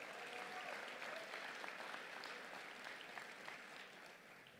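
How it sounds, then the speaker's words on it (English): Audience applause at the Broyles Award ceremony, a steady wash of many hands clapping at a distance, fairly faint and even throughout, with no voices over it. "Let's give them a big round of applause."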